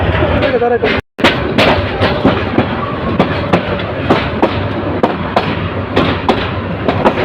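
The Kishorganj Express intercity train pulls out of Kishorganj station with loud, continuous rumbling and rattling, punctuated by repeated sharp clacks of wheels over rail joints, heard close from on board with a brief dropout near the start.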